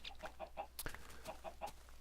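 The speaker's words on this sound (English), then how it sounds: "I told you I got chickens. Look at all these chickens down here." Minecraft (Tekkit) chickens clucking in a flock, short repeated clucks in quick succession, faint and close, with no talk.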